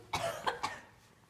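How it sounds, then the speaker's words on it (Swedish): A quick series of three short coughs, close and fairly soft, with no talking. "jag vill inte hosta i facet på dig"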